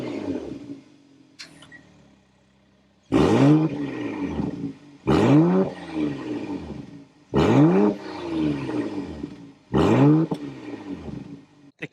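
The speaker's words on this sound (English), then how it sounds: "so you can hear that exhaust note" A 2025 BMW M340i exhaust revs hard four times in quick succession, each loud burst of engine roar dropping back to a rumbling idle between.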